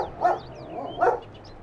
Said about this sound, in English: my dog's barking at the mailman